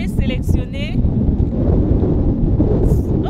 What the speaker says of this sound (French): Mais c'est le vent.